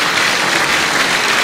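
An audience at a university inaugural lecture claps, a dense, loud and even burst of applause sustained throughout the short stretch with no talk over it.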